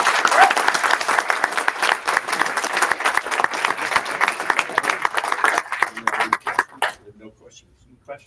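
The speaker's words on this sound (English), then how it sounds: "let's give him a round of applause" Applause from the audience at a community membership meeting, steady clapping that fades out after several seconds, moderately loud with some talk underneath.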